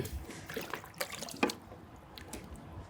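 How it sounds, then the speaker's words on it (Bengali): Water from a bucket is poured onto an iPhone 15 Pro Max on a sunny rooftop, making quiet, scattered splashes and trickling drips over a few seconds. "রকি পানি ঢালতে হবে"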